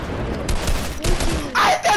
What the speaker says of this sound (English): No, he throwing grenades at me, John.